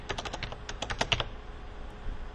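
Keys clatter on a computer keyboard as a trade number is typed into a pricebook search field: a quick close burst of light clicks that trails off into quiet, with no voices.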